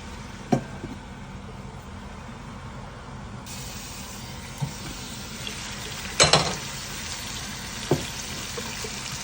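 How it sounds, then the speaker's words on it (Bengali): Chicken meat cooks in hot oil in a pan, a soft, continuous sizzle with a few sharper scrapes and clatters as it is stirred. "মাংস না কষানো পর্যন্ত আমি জল দিব না"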